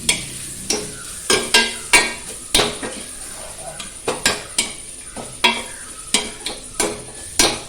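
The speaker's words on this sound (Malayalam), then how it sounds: "അതിലേക്ക് കുറച്ച് കറിവേപ്പില ഇടണം ഇളക്കാം" Curry leaves frying in a pan, stirred with a spoon that knocks and scrapes against the metal in quick, irregular strokes over a faint sizzle, loud and close with no talk.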